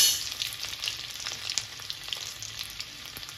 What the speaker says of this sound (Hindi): जैसे ही हमारा जीरा पक जाएगा हम इसमें ऐड करेंगे लहसुन का कलियां, जिसे हमने छोटा छोटा काट लिया था।